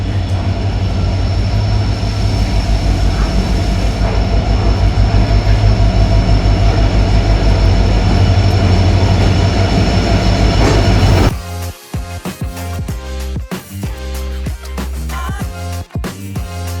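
A passenger train pulls in at night at platform 6 of Yesvantpur station: a loud, steady rumble and hum, then a louder stretch of rhythmic wheel clacks and metallic knocks as the cars roll past close by.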